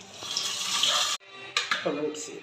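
Liquid poured into a pot of onion, chili and curry leaves for a banana pulisseri curry, a bright splashing pour that stops abruptly, then a few short splashes.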